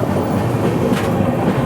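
Heard from aboard the Saurashtra Janta Express as it runs through Sabarmati without stopping: a continuous rumble of moving carriages with a light rhythmic rattle of wheels on track.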